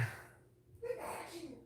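A single short sneeze, fairly quiet and close, comes after a faint breathy intake, in a humid indoor setting with no talk around it.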